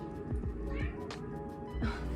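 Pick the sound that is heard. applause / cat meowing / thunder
cat meowing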